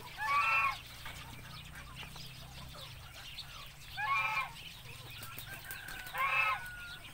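Ducks on a farm give three loud bursts of honking quacks, spaced a couple of seconds apart, over a low background hum.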